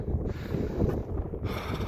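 Strong wind on a Carpathian mountaintop buffets the microphone with a constant low roar and gusty rumble, no voices.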